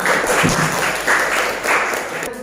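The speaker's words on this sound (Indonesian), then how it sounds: "kasih tepuk tangan buat ini" Applause from a class of high school students, a steady wash of clapping in a few swelling waves that fades near the end, with no talking.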